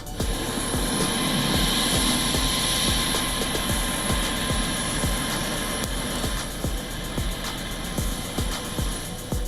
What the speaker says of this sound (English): U.S. military planes arrive in Greenland's airport ahead of a visit by U.S. Second Lady Usha Vance.